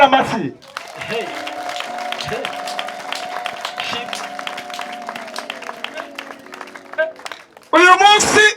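A church congregation claps in quick, scattered bursts over a long sustained keyboard tone, with voices breaking in loudly near the end.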